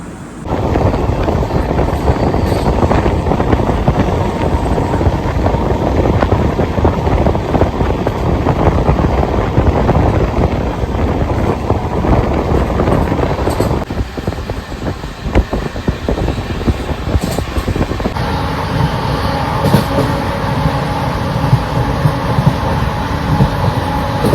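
The Jalpaiguri–Sealdah Humsafar Express (13116) runs on after leaving Kishanganj, producing a loud, continuous rumble of wheels and carriages with heavy wind rush throughout and a slight shift in tone partway through.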